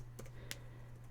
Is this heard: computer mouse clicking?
yes